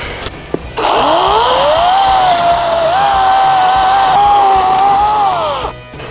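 An EGO 56V battery chainsaw with a 450mm bar whines up and cuts steadily through 400mm timber for several seconds, its pitch rising then holding, loud and close, before stopping abruptly.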